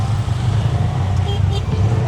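Busy road traffic of cars and motorcycles in slow congestion, a steady loud engine drone close by with passing vehicles blending into one continuous roar.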